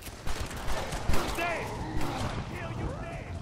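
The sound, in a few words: gunfire in the video game Red Dead Redemption: Undead Nightmare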